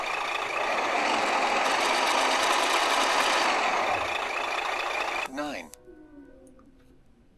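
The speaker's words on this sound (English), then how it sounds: "there's a more of a diesel engine." Diesel engine sound from an RC sound controller fitted in a TRX-4M Defender crawler, a loud steady rumbling drone for about five seconds that then cuts off, followed by fading electronic tones.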